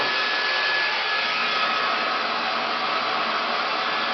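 A hair dryer blows steadily and loudly up close during a salon blowout, a constant whooshing roar that runs through the whole stretch with no voices over it.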